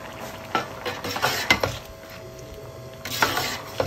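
Mughlai beef pulao being stirred in a pot, a spoon scraping and clacking in bursts over a soft sizzle, close and alone without speech.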